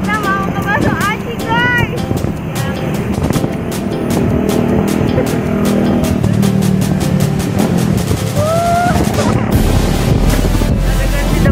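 Wind roars over the microphone during a motorcycle ride on the way to a meatball stall in Pandeglang, steady engine drone and buffeting under a chatty voice, with occasional horn-like tones passing.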